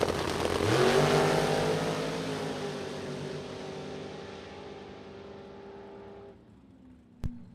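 A supercharged Super Pro drag racing car launches down the strip with a loud, rising roar that peaks early, then trails off into the distance. A brief sharp knock follows near the end.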